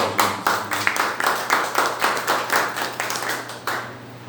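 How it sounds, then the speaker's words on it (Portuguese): A church congregation claps in a steady, lively rhythm, many hands striking together at close range. The clapping runs on continuously without a break. "Uma salva de palmas."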